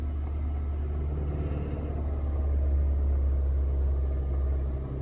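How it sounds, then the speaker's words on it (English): A car's engine idles at low speed while the clutch is released during a pull-off, a steady close rumble whose revs sag slightly, with no talking. "there's the revs dropping"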